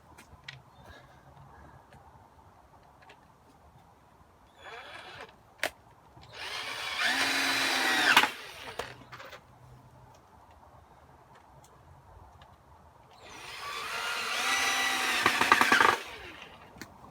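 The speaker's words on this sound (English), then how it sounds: "chuck a few screws in" A power drill drives screws into wood while a clamped potting bench top is fixed level, giving two long whirring bursts of a few seconds each with faint clicks and knocks between them, close and fairly loud.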